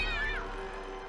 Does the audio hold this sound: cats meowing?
yes